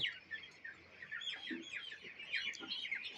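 Chickens and chicks on a poultry farm cluck and chirp in a steady, busy chorus, with soft scattered calls and a brief lower cluck around the middle, fairly close.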